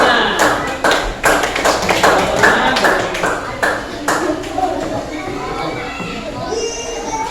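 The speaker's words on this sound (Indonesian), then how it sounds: "kita berikan tepuk tangan untuk kelompok 5" Classroom pupils clapping for a group of classmates, a few sharp in-unison claps in a quick rhythm followed by scattered clapping that fades, with children chattering nearby.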